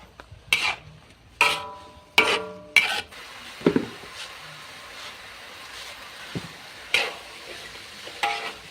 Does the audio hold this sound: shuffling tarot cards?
no